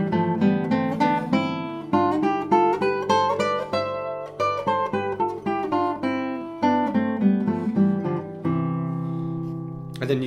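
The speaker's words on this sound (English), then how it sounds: "And so you start with a scale in thirds, which sounds like this." A classical guitar plays a steady scale in thirds, paired notes moving up and down in an even rhythm, clear and close with no talking.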